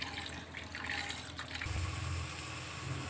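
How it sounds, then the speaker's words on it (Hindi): Flattened rice (poha) is rinsed under running water, a steady close splashing and trickling like a tap filling a bowl, with no voices. "तो हम पोहा को धुल लेंगे पहले, क्योंकि पोहा धुलने के बाद थोड़ा मुलायम हो जाता है"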